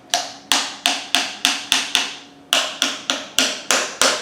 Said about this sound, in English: we're going to just tap that piston